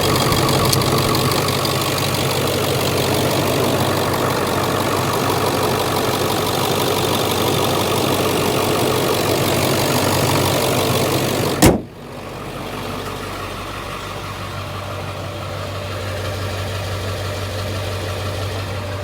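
A 2001 Ford Excursion Limited 4WD with a 7.3L Powerstroke diesel idles close by with an even, knocking clatter. A sharp thump, like a door shutting, cuts in partway through, after which the engine sounds muffled and more distant.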